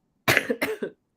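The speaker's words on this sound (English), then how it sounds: "I'm laughing that I'm coughing too." A person gives a short burst of coughing, three quick coughs close by and fairly soft, with silence around them.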